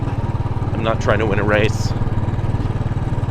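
A Royal Enfield motorcycle engine thumps steadily throughout while riding, its low pulsing exhaust beat running under a voice as he talks.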